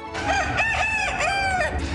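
A rooster crows loudly and close at an agricultural fair among pigeons, ducks, geese and hens, its call rising and wavering in several strained bursts over a low background hum.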